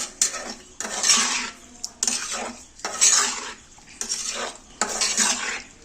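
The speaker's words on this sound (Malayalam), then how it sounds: "നമ്മളിതൊന്ന് ജസ്റ്റ് ഒന്ന് ഇങ്ങനെ ഇളക്കി കൊടുക്കണം കേട്ടോ." A spoon scrapes and clatters against a pan while food is stirred, coming in about five regular bursts with short pauses between them, close and fairly loud over a faint sizzle, no voices.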